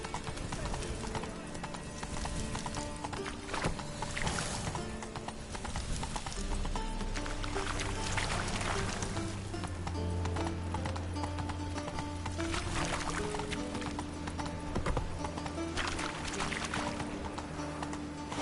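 Roach the horse galloping in The Witcher 3, a steady rhythmic clip-clop of hooves running on for the whole stretch, with game music and a low rumble underneath and some speech over it.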